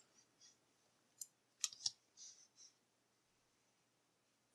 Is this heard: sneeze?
no